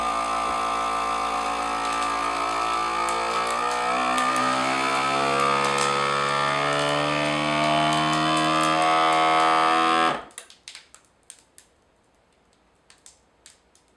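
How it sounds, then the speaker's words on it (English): A vacuum sealer runs with a steady mechanical motor hum and tonal whine for about ten seconds, then cuts off abruptly, followed by a few faint clicks. "Hit this seal button right here, the vacuum and seal button."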